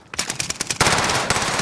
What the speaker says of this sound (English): you started shooting